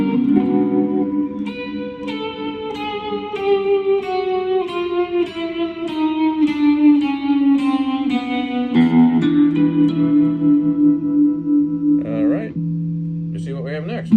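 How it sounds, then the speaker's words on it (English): An electric guitar plays through a Flamma FX10 headphone amp set to tremolo with heavy reverb: a descending run of plucked notes with pulsing, washy tails, then a sustained low chord and a few final plucks. "Tremolo and lots of reverb."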